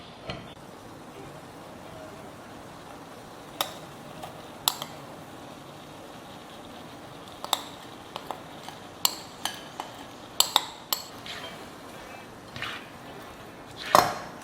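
Ground coconut paste being stirred into cucumber kichadi, with scattered light clinks and scrapes of a spoon against the vessel over a quiet background, irregular and close.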